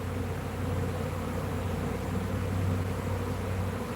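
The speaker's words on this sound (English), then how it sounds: "There are a lot of bees flying though" Loud, steady roar of many honeybees flying around outdoor hives, a dense continuous buzz with a low hum that holds evenly throughout, no voices.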